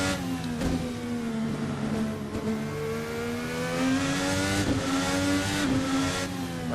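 A Formula NA race car engine in a racing simulator game drones steadily through fourth gear at medium to high speed, its pitch rising and falling with throttle, loud and continuous with no talking.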